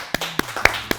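A few people clapping in a small studio, four or five separate, close claps spaced unevenly over about a second, with a faint low hum underneath.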